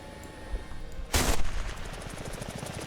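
Gunfire from a helicopter's gunner-controlled machine gun in a military flight game: a loud broadband burst about a second in, then a faint, rapid rhythmic rattle of distant rounds.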